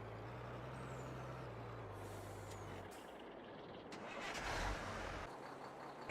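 A truck engine in a farming simulator game hums low and steady, then drops away and gives way to a hissing air release and a brief higher whine, fairly quiet throughout.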